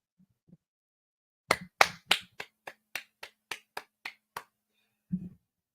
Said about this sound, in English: So I'll give them a clap.